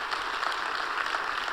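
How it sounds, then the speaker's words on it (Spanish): A church congregation applauds in a continuous, even roar of many hands clapping, fairly soft and distant, lasting the whole short stretch with no speech over it. "Damos un aplauso a Cristo por su sacrificio."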